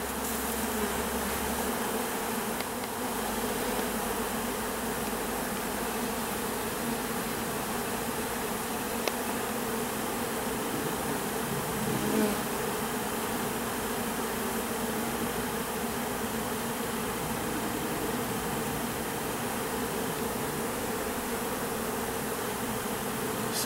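Honeybees swarm around an open hive frame during a spring split, a dense steady drone of buzzing wings close and all around, unbroken throughout with no voices.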